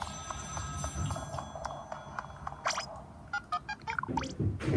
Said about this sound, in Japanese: 電話、あ、ありますね、電話。